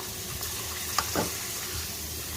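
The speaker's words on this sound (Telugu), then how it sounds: "నూనె అయితే కాగిపోయింది సో అప్పడం అయితే వేసేసుకుందాము" A papad dropped into hot oil, frying with a continuous even sizzle and crackle, plus a couple of small clinks and a short splash near the middle.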